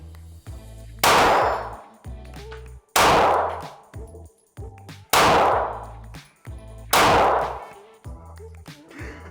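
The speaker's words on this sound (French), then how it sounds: "Ce sont des balles à blanc." Blank cartridges fired from a gun in a shooting contest: four loud, sharp reports spaced about two seconds apart, each with a ringing metallic tail, close and alone without talk.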